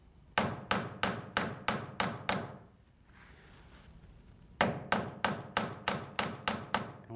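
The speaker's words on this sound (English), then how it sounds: "Metal block, if I do this on wood, it's just going to dent the wood and not spread the metal." A forging hammer strikes silver wire laid on a metal block in two bursts of about six to seven sharp, ringing, evenly spaced blows, separated by a short stretch of quiet.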